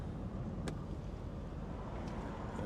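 A 1962 Lincoln Continental cruises along the road, heard from inside as a low steady engine and road rumble with faint wind noise, even and continuous, no talking.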